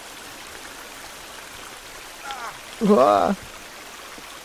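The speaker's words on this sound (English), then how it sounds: "now all I can hear is a freaking water, and it's loud" Loud running water in the video game Sons of the Forest flows as a steady, diffuse rushing wash throughout, with a man briefly groaning over it.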